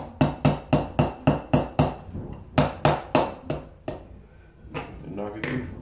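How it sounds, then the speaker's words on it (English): Sharp metallic hammer taps ring out in quick, evenly spaced runs, about seven then five, knocking a pin through an AR-15 oversized charging handle latch, followed by a few scrapes and quieter knocks. "Take my little hammer."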